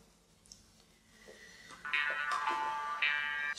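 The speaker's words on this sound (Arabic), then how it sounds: "نطفي هذا الموبايل وركز شوي" A mobile phone rings indoors, a bright electronic ringtone that rises in after a quiet moment and holds with pulsing tones for the last second and a half, fairly close.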